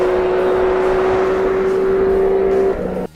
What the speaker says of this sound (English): Fortunately, that exhaust did not lose any of that unique Triumph Triple soundtrack.